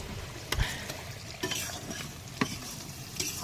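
Onion, grated ginger, garlic and tomato fry together in a pan over a riverside outdoor stove, a steady sizzle broken by several sharp stirring scrapes at irregular intervals.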